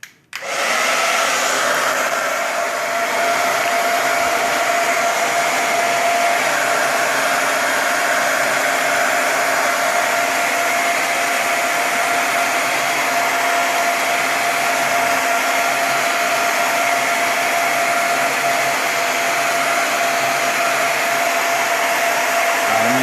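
A regular blow dryer runs continuously at close range, heating a Samsung Galaxy Note 4 to loosen its back, a steady loud whooshing roar with a constant hum and no speech.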